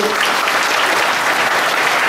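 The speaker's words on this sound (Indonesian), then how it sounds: "Tepuk tangan dulu" Audience applause at a Buddhist temple talk in Wihara Ekayana Arama, a dense steady clapping from a large crowd, sustained and fairly loud throughout with no voices over it.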